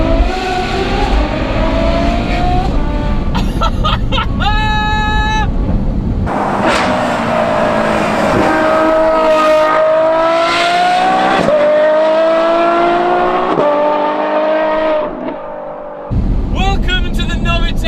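A Novitec N-Largo Ferrari F12 V12 revs hard through a titanium exhaust, loud and close, climbing and dropping through gear changes with a long sustained howl in the middle and brief bursts of talk.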